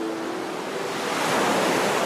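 Ocean surf rolls in as a broad, steady wash of noise that swells slightly louder toward the end, with no voices over it.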